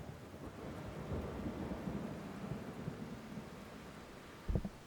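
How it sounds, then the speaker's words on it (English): Steady rain falls outside with rolling thunder, a soft continuous hiss and low rumble, faint and distant throughout, ending with a brief louder thud. "It is obviously raining outside."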